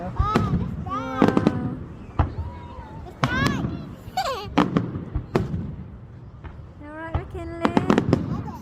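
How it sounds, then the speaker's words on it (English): A seaside fireworks display at Cromer crackles and pops with frequent bangs and whistling rockets at middle distance, while children and adults talk and call out throughout. "It makes one big firework when they all go at the one same time"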